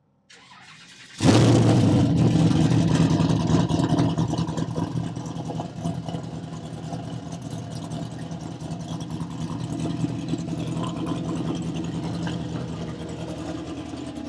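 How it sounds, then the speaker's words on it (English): A custom-built twin-turbo Chevy pickup truck engine cranks and fires, then settles into a loud, rough idle with a deep rumble and occasional revs, close by. "It doesn't sound like you've got turbo slapped on it, does it?"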